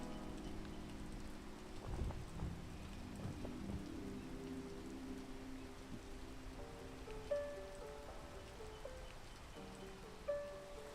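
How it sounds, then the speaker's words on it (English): Steady rain patters across surfaces in a video game, a soft continuous hiss with occasional louder drops and faint tonal game sounds beneath it and no talk. "There's rain."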